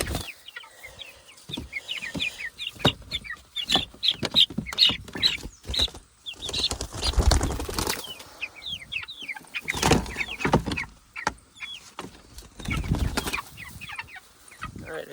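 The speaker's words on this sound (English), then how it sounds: "these are the worst chickens, man. I hate Cornish, but they grow so fast." Cornish cross meat chickens being moved outdoors give off many close, scattered clucks and short squawks, mixed with rustling and handling noises throughout.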